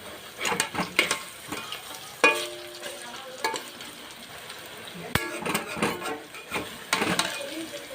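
Onion leaf pakoras fry in hot oil with a soft, steady sizzle, broken by sharp metallic clinks and scrapes of a utensil stirring against the pan, fairly close and moderately quiet.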